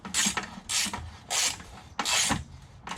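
A ratchet tightens intake manifold bolts in four quick rounds of rasping, clicking strokes. Short pauses separate each burst, and the tool sounds close and fairly quiet.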